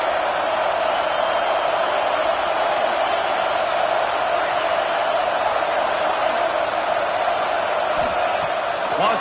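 Steady roar of a large football stadium crowd at an Oregon versus Oklahoma game, a dense continuous wash of voices holding level throughout, loud and unbroken.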